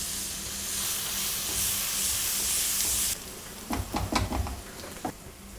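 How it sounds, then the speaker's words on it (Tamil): Chopped onion sautéing in a hot pan for tawa paneer pulao, a steady broadband sizzle for about three seconds, then quieter stirring with a few scrapes and clinks close by. "இது ஒரு 5 minutes இதை வதக்குங்க"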